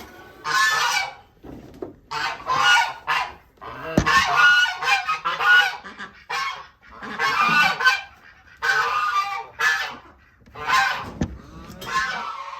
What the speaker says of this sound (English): sorry again for the geese